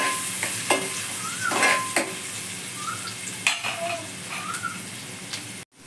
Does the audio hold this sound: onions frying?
yes